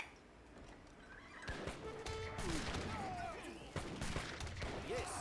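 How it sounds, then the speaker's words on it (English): Cannon volley in an Ace of Spades match, a cluster of sharp gunfire-like blasts with whistling and a horse whinny in the mix, fairly faint under game ambience. "Cannon volley."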